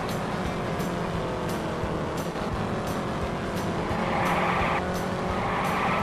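Race car tires skid and squeal through a long slide in the Indianapolis 500 Evolution racing game at 1961 Trenton, a steady loud engine drone underneath and a brighter screech swelling near the end.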